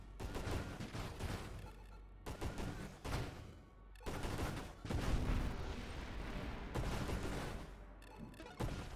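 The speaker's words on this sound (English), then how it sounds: "on the charge mines, we're hitting every segment of his body with the explosion" Charge mines exploding against a boss in a video game: dense bursts of booming, crackling blasts in rapid clusters, loud and continuous with brief gaps between volleys.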